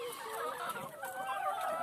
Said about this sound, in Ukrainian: вони і клюються, і великі курі не дуже приймають у цих маленьких курчаток